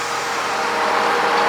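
A steady, loud 8300 tractor engine drone with a broad rushing roar, running continuously without change.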